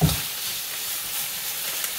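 A big batch of onions, around 2.5 kilos, fries together with beef shank meat for goulash, producing a dense, even hiss and crackle that holds steady throughout.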